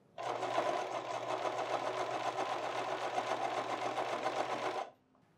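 A sewing machine runs steadily while stitching a double welt pocket, a close, even mechanical whir with rapid needle ticking that holds for several seconds and then stops abruptly near the end.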